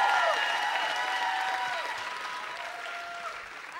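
A television music academy studio audience applauds a young singer after a pop cover, sustained clapping that starts full and slowly tapers, with a few faint voices over it.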